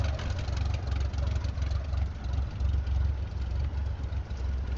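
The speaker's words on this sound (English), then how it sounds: "We'll jump out with the engine running." In Microsoft Flight Simulator 2024, an aircraft engine idles on the ground with a steady, low, throbbing drone that stays close and even throughout, with no talk over it.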